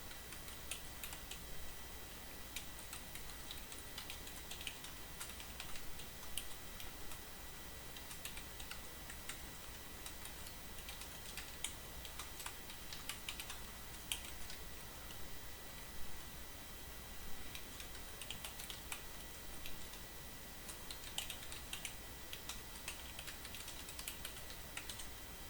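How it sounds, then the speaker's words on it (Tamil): Steady typing on a computer keyboard, a continuous run of light, quick key clicks at close range with faint background hiss and no talking. "பிக் பண்ணிவிட்டு இங்கே நீங்கள் டைப் பண்ண ஆரம்பிக்கலாம்."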